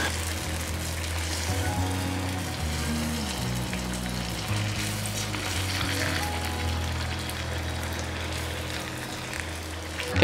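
Steady oil sizzling and crackling as banana fritters fry, continuous and fairly loud throughout, with low background hum and no talking.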